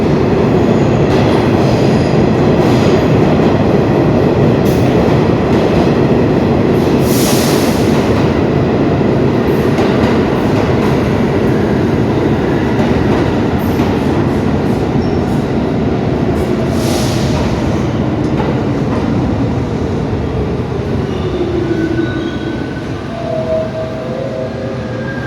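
A New York City subway train rumbles loudly and steadily up close, with wheel clatter and brief hissing bursts throughout, fading slightly toward the end.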